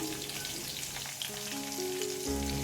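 Slit green chillies fry in oil with a soft, steady sizzle. Faint tonal hums and a slight bump near the end sit beneath the crackle.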